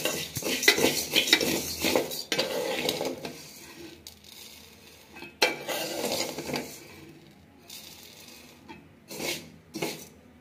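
Spoon scraping and clattering against a pan of dry-roasted rice after the stove is switched off, a dense busy stirring that thins out into a few separate strokes near the end.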